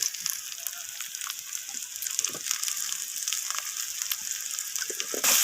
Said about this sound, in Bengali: তো মশলাগুলো দিয়ে আমি আলুর সাথে এইভাবে নাড়াচাড়া করে কষিয়ে নিচ্ছি।